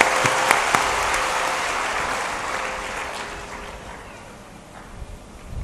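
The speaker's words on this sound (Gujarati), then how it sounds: "પ્રહાર માટે તાળીઓ." A large religious gathering at a Ram Katha discourse breaks into applause that starts loud and crowded and then gradually thins and fades.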